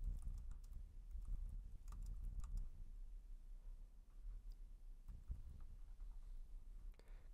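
Typing on a computer keyboard while filling in an AI chatbot setup form: quiet, quick bursts of soft key clicks in irregular clusters, pausing briefly midway, faint and close with no talking.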